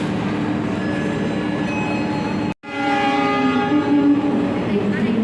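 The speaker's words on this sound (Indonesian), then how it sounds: "Kereta api Argo Dwi Pangga teman-teman berangkat lagi." The Argo Dwi Pangga passenger train, a fast service between Jakarta and Solo, departs with a steady loud rumble and faint tonal whine, broken by a brief cut before the running noise resumes, louder and rising.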